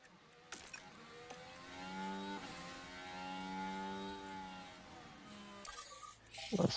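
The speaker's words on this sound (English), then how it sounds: "GP2 engine, yes." Simulated GP2 race car engine in the F1 Manager racing game, a steady whining tone with rising and falling harmonics sustained for several seconds before fading out near the end.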